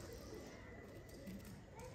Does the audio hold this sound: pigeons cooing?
yes